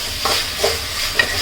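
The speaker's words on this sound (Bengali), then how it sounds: "পেঁয়াজের একদম বাদামি কালার না আসা পর্যন্ত আপনাকে এটা একটু ভালো করে নাড়তে হবে" Onions fry with whole spices such as cinnamon, cardamom and cloves for a beef curry, giving a loud, constant sizzle with three brief spatula scrapes from stirring at a steady pace.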